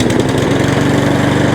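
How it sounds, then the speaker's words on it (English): Repaired lawnmower engine running at full revs, a loud, steady close-up drone that holds constant throughout with no speech. "There it goes, there's the lawnmower now fully running."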